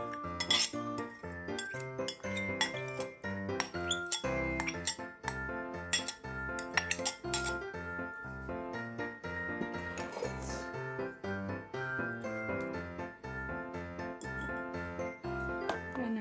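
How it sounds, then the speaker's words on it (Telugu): Soaked nuts added to eggless plum cake batter and stirred in a bowl, making steady close clinks and scrapes of utensil against dish throughout, with no talk. "ఆ నట్స్ దీంట్లో వేసేసుకుందాం."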